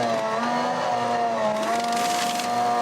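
A 1999 Ferrari Formula 1 car pulls away from a pit stop, its high-pitched engine screaming loudly and rising in pitch as it accelerates, with a brief shift partway through.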